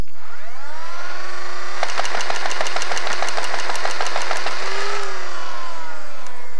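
A modified Nerf Rapidstrike CS-18 blaster running on a LiPo battery: flywheel motors whine up, then about 18 darts fire in a rapid, even burst of loud clacks before the motors spin down.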